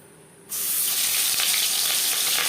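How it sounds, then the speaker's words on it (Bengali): Marinated fish slid into hot refined oil sets off a sudden, loud, steady hiss of frying that starts abruptly and carries on without a break, close by with no talking. "চার পাঁচ চামচ রিফাইন্ড অয়েল গরম করে নেওয়ার পর দিয়ে দিলাম ম্যারিনেট করে রাখা মাছ"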